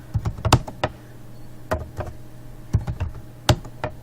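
Typing on a computer keyboard to fill in a form, sharp close key clicks in quick irregular bursts with short pauses between, fairly loud, with no speech.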